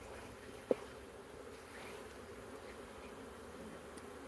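Honeybees buzz around an open hive during an inspection, a soft continuous drone close by, with a single small click partway through.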